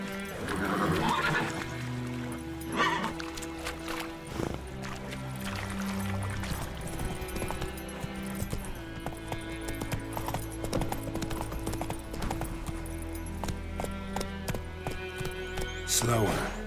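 In The Witcher 3, a horse gallops with steady, close hoofbeats over game music, letting out whinnies near the start and again at the end while a voice speaks over the ride.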